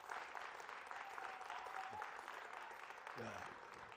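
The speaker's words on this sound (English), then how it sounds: "Let's give him a nice round of applause" A festival crowd applauds steadily for Hunter Deerfoot, a young dancer at an Indigenous cultural performance, with a dense, even clatter of clapping and a voice briefly audible underneath.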